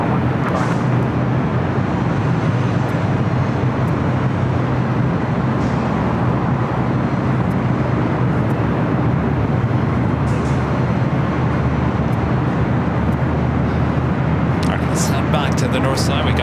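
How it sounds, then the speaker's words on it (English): An American Airlines Boeing 777-200ER landing at LAX from London Heathrow makes a continuous broadband jet rumble at constant loudness, mixed with steady ambient airport noise. "we got that American 777-200ER coming in from London Heathrow"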